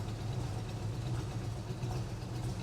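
A Chevrolet El Camino engine idles with a steady low rumble and a slight uneven throb, settled back at idle, heard up close with no talking.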